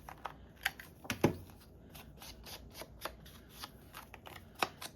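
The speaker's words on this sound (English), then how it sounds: "I am gonna just do the ever so slightest snip on the corners of these." Scissors making small, quiet snips on the corners of paper journal tags, several short crisp cuts spaced irregularly with light paper rustling between them.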